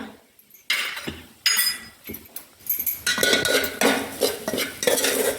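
A spoon scrapes and clinks against a pan while dry-roasted matar kachori filling is stirred, giving a series of loud, irregular metallic strokes at close range with no speech.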